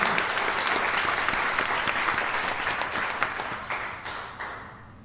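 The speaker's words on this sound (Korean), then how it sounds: "박수로 하나님께 영광" Steady, dense applause from a church congregation giving praise, many hands clapping continuously at a fairly even level and tapering slightly toward the end.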